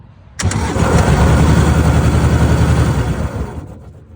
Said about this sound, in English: make sure it fires back up